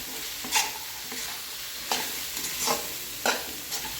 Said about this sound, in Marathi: या सगळ्या भाज्या आहेत ना व्यवस्थित आपल्याला या फोडणीमध्ये परतवून